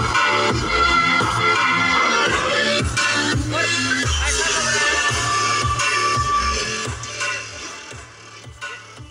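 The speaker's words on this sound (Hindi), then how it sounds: "स्पीकर इसके अंदर सारे JBL के लगे हुए हैं ओरिजिनल" A song plays loudly through the original JBL speakers fitted in a modified 2020 Maruti WagonR, with thumping bass and steady beat, fading somewhat toward the end.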